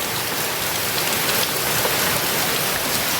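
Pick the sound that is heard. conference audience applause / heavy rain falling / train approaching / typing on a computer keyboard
heavy rain falling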